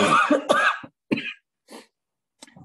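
A person close by coughs several times in quick, harsh bursts, separated by short silences.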